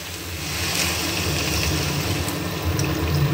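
Water poured into a pan of cooking potatoes and soybeans, a steady splashing pour with a low, bubbling rumble lasting throughout, close and fairly loud, with no talking.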